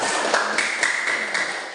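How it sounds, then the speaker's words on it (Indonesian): A sociology class of students claps together in a classroom, a steady patter of many hands with sharper individual slaps standing out, close and fairly loud for a couple of seconds. "beri tepuk tangan untuk kalian"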